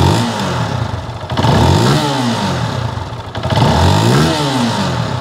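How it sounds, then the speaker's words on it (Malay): A SYM VFE 185i motorcycle engine revs up twice through its exhaust, rising and falling in pitch with a rough exhaust rumble, loud and close. "Ni pula bunyi dari bahagian exhaust ataupun muffler."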